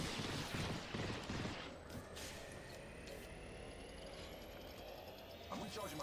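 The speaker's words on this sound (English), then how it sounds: "Repairing. I'm getting shot." Gunfire in Apex Legends comes as rapid bursts of shots, loudest at the start, over a steady game background, with a voice talking.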